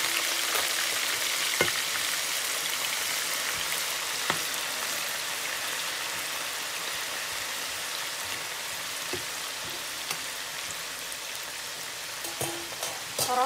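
Carrots fry in hot oil with a steady, dense sizzle that hisses continuously at close range, broken by occasional small pops and clicks.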